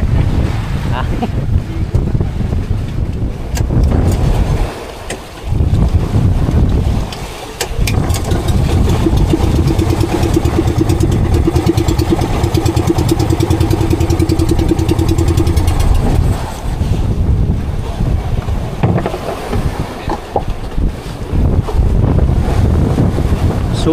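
Strong northeast monsoon (amihan) wind roars and buffets steadily against the microphone at sea aboard a fishing boat, with a low engine hum underneath and brief lulls in the gusting.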